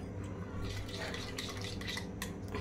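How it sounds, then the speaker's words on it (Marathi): Yogurt whisked in a bowl with sugar and salt, quick clinking and scraping of a utensil against the bowl, close and continuous under a low background hum. "आपण हे जे दही आहे याला जरा फेटून घेऊया"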